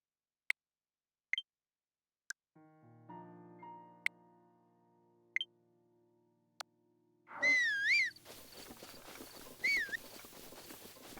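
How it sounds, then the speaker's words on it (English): Whistling while sprinting in the Zelda Breath of the Wild video game: a few sharp clicks, a steady low tone, then a wavering whistle twice with running noise, quiet game sound without talk. "That way I can now easily navigate whilst whistle sprinting."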